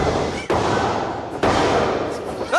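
At a professional wrestling event, a wrestler is slammed onto a chair with a rock bottom, landing as two heavy, close thuds about a second apart over a constant roar of crowd noise.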